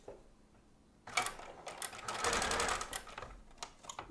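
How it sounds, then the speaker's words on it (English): A sewing machine runs a straight stitch along a fabric edge on a toddler's costume, starting after a quiet pause with a rapid close mechanical whirr and clatter that speeds up and then stops and starts in short bursts. "So now I'm going to sew all the way down, right along that edge that you see right there"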